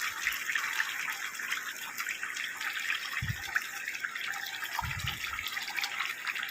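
A premixed masala mixture for dhaba-style chicken curry is poured into the pot, giving a continuous wet, hissing pour, joined by a couple of brief low thuds, with no voices.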